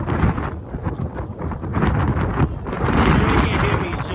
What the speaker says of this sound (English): it is very gusty today